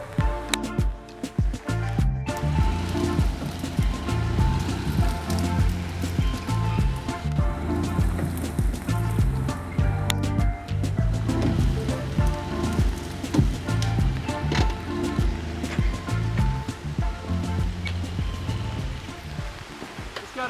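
A steady downpour soaks a flower farm, rain drumming on surfaces in a full, unbroken wash with scattered heavier drips close by.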